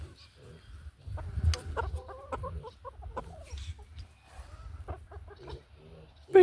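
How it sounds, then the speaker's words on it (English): Chickens on a farm cluck in short, scattered bursts close by, with low rumbling background noise and occasional other farm sounds mixed in. "And the chickens too, they come running."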